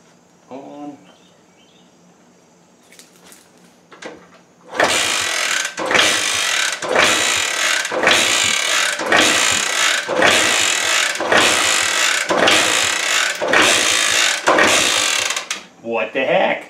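A 1968 Honda Trail 90 engine sputters with its choke off, giving roughly ten loud, rhythmic chugging bursts close by, after a few seconds of quiet handling noises.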